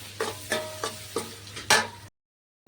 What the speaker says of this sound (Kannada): ಮಸಾಲೆ ಫ್ರೈ ಆಗ್ಲಕತ್ತದ